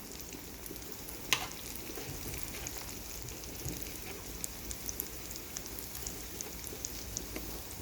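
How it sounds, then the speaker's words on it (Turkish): Soaked, drained rice sautéing in butter in a pan gives a faint, steady crackling sizzle with scattered small pops and light stirring scrapes, no voices. "Güzelce kavuruyorum."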